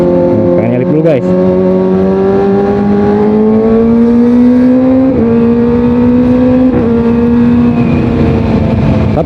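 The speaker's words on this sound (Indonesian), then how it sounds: "faktanya ini di RPM tinggi, ditarikan RPM tinggi ini terasa juga tenaganya kencang larinya." A Kawasaki ZX25R four-cylinder sport motorcycle revs hard at high RPM while riding, with a steady, loud, rising engine whine that holds for several seconds and dips briefly at gear changes.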